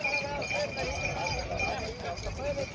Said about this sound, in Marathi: बघा बैल कशी चालेल